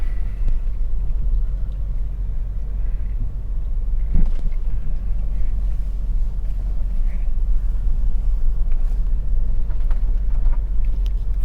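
An old Honda Odyssey minivan, now used as a cargo van, idles while warming up, giving a steady low rumble close to the microphone, with a brief knock partway through and faint wind noise.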